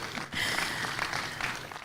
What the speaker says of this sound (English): Yep, that deserves a round of applause.